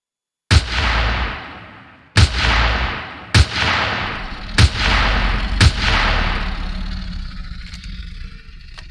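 Gunfire in Empyrion Galactic Survival: five loud, heavy shots spaced roughly a second or more apart, each booming and trailing off in a long echoing tail, followed by a fading rumble.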